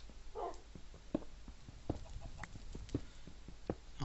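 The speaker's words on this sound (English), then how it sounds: "The dog really actually sounds hurt." Dog in the Minecraft Hexxit modpack making hurt noises: several short, sharp yelps and whimper-like clucks recurring irregularly at moderate loudness over a steady low game background.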